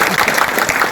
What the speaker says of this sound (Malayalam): നന്നായിട്ട് കൈയടിച്ച്